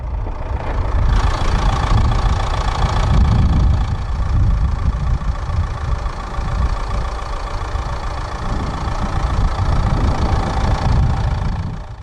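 A 2016 Vauxhall Vivaro van's 1.6-litre twin-turbo diesel inline-four idles steadily and close by, a constant low rumble with a faint rhythmic knock, running throughout without any talking.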